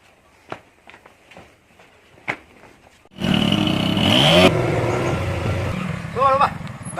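A motorcycle engine starts up close and loud, revving hard for about a second and a half before settling to a rough idle, after some brief knocks and a faint voice.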